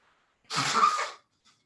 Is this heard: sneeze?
yes